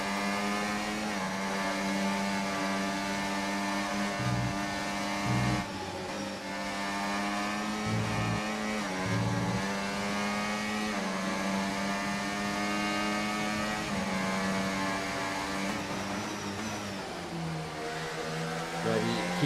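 Onboard engine note from an F1 24 esports race car at Saudi Arabia, a loud continuous high-pitched whine with steady harmonic tones that dip and rise through gear changes as it chases closely behind another car, no voices.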